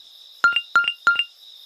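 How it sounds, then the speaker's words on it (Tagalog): A phone's text-message alert tone sounds as three quick two-note chimes, evenly spaced and clear over a steady high whine, with no talk. "May nag-text."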